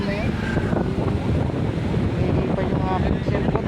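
Strong wind buffeting a cellphone microphone outdoors, a loud continuous rumbling roar with gusty swells throughout, close and dominant, faint speech buried beneath it.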